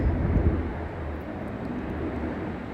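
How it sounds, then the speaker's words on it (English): An airplane passes overhead as a steady, broad, rumbling drone that holds at an even level throughout, with no voices. "I'm waiting for this plane to go by."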